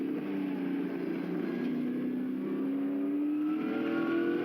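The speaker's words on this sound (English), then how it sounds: "And Aaron Seaton will go past as well, using the toe of the Hearn car just ahead." Trans Am race cars sweep past on the Symmons Plains circuit in Australia, a loud sustained engine roar with rising pitch as they draw near, slipstreaming one another with no voices over the sound.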